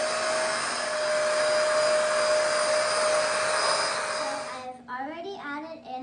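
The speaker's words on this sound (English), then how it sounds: "Now I'm about to start beating in the ingredients." An electric mixer whirs steadily at close range as it beats cheesecake batter, then stops, and a person starts talking afterward.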